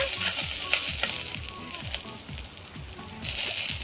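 Chopped ridge gourd fries in hot oil inside a clay pot, giving a loud, continuous crackling sizzle with repeated scraping stirs close by.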